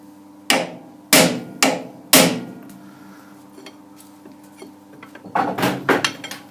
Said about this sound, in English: we'll give that a few more whacks and see what happens